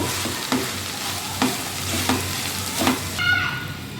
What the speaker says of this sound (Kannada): ಇದನ್ನು ಚೆನ್ನಾಗಿ ಹೀಗೆ ಮಿಕ್ಸ್ ಮಾಡ್ಕೊಳ್ತಾ ಇದ್ದೀನಿ